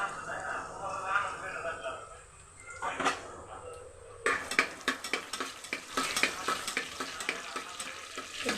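Ginger and spices fry for masale bhat. A soft sizzle opens, then a spoon clinks and scrapes repeatedly against the pot, and a voice talks over parts of it.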